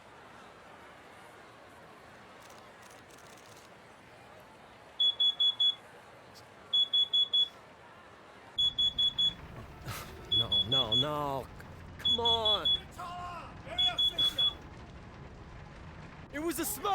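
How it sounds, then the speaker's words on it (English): A smoke alarm, heard during NBA 2K19 gameplay, sounds in repeated bursts of rapid high beeps, roughly every second and a half, over a low background, while voices talk over the later beeps. "It was a smoke detector."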